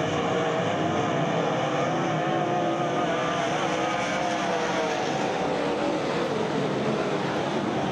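Stock race cars, including a Ford, roar around an oval dirt racetrack at the green flag, a dense, continuous engine drone with no breaks that holds steady throughout.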